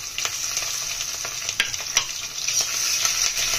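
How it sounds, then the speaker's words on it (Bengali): Prawns frying in hot oil in a kadai, a close, steady sizzle scattered with sharp crackles and pops, with no voices. "তেল গরম হয়ে গেছে, চিংড়ি মাছটা দিয়ে দিলাম।"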